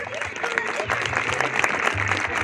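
A crowd applauds at an agency tournament in Oaxaca, with steady clapping throughout under an announcer speaking over a loudspeaker.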